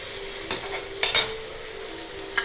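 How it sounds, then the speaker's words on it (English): Chopped onion fries in a pan for onion kachori, a steady close sizzle broken by a few sharp scraping stirs and clinks. "in the pan and fry it properly when it becomes golden brown"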